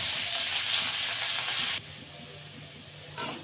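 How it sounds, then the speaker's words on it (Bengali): Turmeric and chili spices sauté in a pan of vegetables with a loud, close sizzle, which drops abruptly to a softer frying hiss partway through and flares briefly near the end. "এই মশলাটা কষিয়ে নেব হ্যাঁ"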